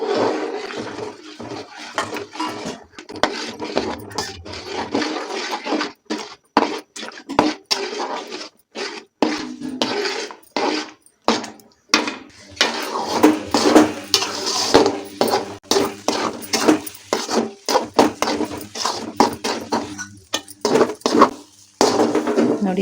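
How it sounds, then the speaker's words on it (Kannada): Rice grits being mixed into boiling water in a pot for malnad kadubu make repeated scraping and knocking of a spoon against the pot in an uneven rhythm, close and fairly loud, with no speech. "ಕುದ್ದಿರೋ ನೀರಿಗೆ ಅಕ್ಕಿ ತರಿ ಹಾಕ್ಕೊಂಡು ನಿಧಾನಕ್ಕೆ ಮಿಕ್ಸ್ ಮಾಡಬೇಕು."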